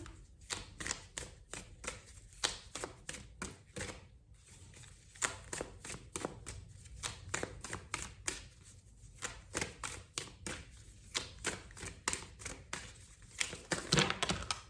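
A deck of affirmation cards shuffled by hand, with rapid, continuous riffling and flicking close up, a dense papery patter that runs for many seconds with short pauses and no voices.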